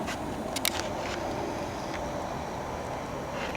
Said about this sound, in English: Getting pretty windy too.